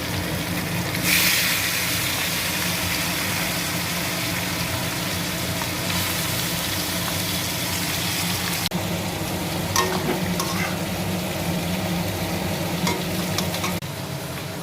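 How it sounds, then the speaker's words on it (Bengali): Fish frying in hot oil produces a steady hissing sizzle throughout, with a brief louder burst near the start, and no talking. "তেলটা গরম হয়ে গেছে, মাছগুলো দিতে হবে।"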